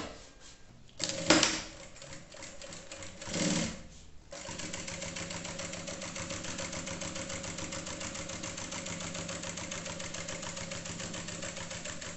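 Sewing machine stitching a crystal plastic pouch lining: after some brief handling noises, a steady, continuous mechanical whir with a rapid, even stitch rhythm runs close and moderately loud to the end.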